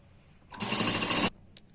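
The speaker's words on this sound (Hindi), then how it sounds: "अब हम इसके ऊपर सिलाई लगाएंगे।" A sewing machine runs a single steady burst of stitching on a double katori blouse, loud and close, starting abruptly and stopping after under a second with no speech.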